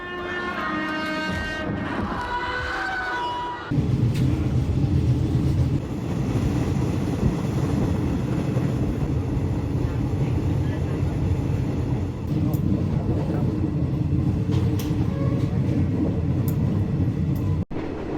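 A passenger train rumbles and clatters along Thailand's Death Railway, a steady loud rolling noise with wind rushing through open windows and a sustained high whine, after a brief stretch of music at the start.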